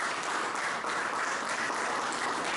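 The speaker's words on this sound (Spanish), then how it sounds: "Dan un aplauso al Rey." Steady broadband applause from a church congregation during a sermon, dense and continuous throughout with no speech over it.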